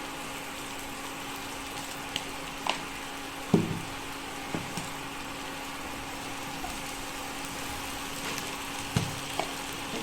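Bitter gourd bharit with onion cooking in a pan, a low, steady sizzle running throughout, broken by a few soft clinks and scrapes of a utensil.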